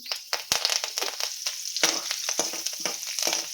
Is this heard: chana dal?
yes